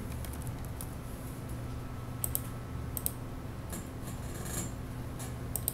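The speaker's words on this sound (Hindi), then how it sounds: "आप यहाँ पर अपना ईमेल आईडी एंटर करेंगे" Computer keyboard typing while entering an email address during account sign-up, quiet irregular taps and clicks in short clusters over a low steady room hum, close but faint with no talk.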